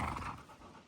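Ranch dogs pant hard after running to corner cows in desert country, a brief close burst of quick breathy huffs fading slightly toward the end, with no voices.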